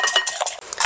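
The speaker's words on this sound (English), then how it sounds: "I'm just going to use my whisk." A whisk rattling against a bowl while mixing buttermilk and eggs, quick light clinks and scrapes in a short close burst.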